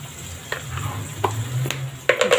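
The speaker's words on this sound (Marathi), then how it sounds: "थोडंसं आलं लसूण पेस्ट टाकते।" Ginger garlic paste sizzles in a hot pan for matki usal, a steady close fry with intermittent scraping clicks of a spoon stirring, no voices.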